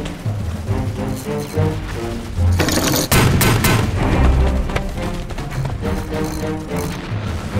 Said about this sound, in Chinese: 迫击炮，把城墙上的机枪手给我炸掉